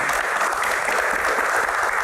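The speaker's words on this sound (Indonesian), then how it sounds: "tepuk tangan." A studio audience claps in steady, dense applause at a talk-show interview, loud and even throughout without any voices on top.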